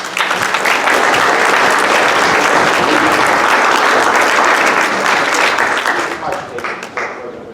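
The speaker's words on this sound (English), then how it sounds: "we owe Supervisor Church a round of applause" An outdoor crowd at a park grand reopening in Pajaro, California applauds loudly and continuously for several seconds, the dense clapping thinning out toward the end with a few voices mixed in.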